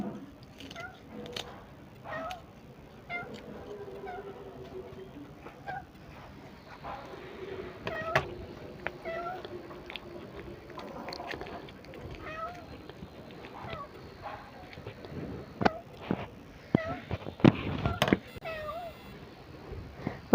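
A kitten sitting below, waiting for fish heads in a home kitchen, meows repeatedly in short rising cries scattered across the stretch, close and clear, with a person talking at times between the calls.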